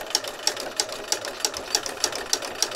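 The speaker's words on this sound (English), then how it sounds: "So I'm going to stitch around it a second time." A sewing machine stitches around a fabric circle for a flower, its needle giving evenly spaced mechanical clacks about three per second over a soft running whir, close and alone with no talking.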